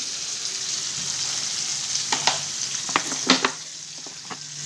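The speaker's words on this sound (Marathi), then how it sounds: "तेलात थोडी कोथिंबीर टाकायची." Coriander leaves hit hot oil in a pan for a peas pulao, a steady frying sizzle with several sharp clinks and scrapes of a spoon stirring, close and moderately loud.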